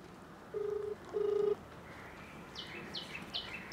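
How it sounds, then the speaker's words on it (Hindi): A phone rings with an incoming call, two steady electronic tones in a row, followed by a few short chirping beeps over quiet background noise. "फ़ोन आ रहा है, आज हम उसकी गाड़ी से जाएंगे."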